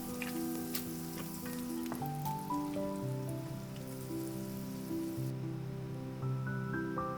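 Continuous crackling sizzle of minced meat frying in a pan, dense and steady, with quiet tonal music playing in the background.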